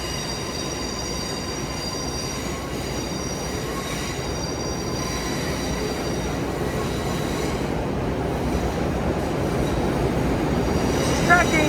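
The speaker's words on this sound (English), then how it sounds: "We're hearing train 1970 depart in the background." A Long Island Rail Road train rolls out of Penn Station, New York, wheels rumbling and squealing on the rails, the noise gradually swelling louder over time.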